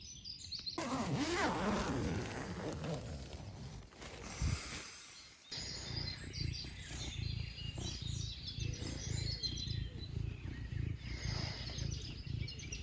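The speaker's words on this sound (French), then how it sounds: "On entend le chant des oiseaux." Birds chirp and sing softly outdoors in the countryside over a low, steady rumbling purr close by.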